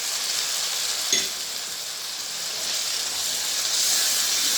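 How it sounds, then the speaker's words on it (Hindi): Potatoes added to a pan of frying tomatoes and green chillies for Punjabi gobhi aloo sabzi, a loud continuous sizzle and hiss with a single clatter as they drop in. "अब इसमें आलू ऐड करेंगे।"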